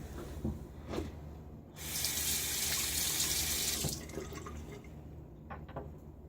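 A tap runs briefly into a sink for rinsing after a wet shave, a steady close splash lasting about two seconds between quieter drips and handling sounds.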